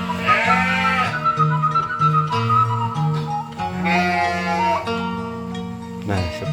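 Dorper and Garut crossbreed sheep bleat in drawn-out, wavering calls near the start and again midway, over a steady, humming tonal background with no talking.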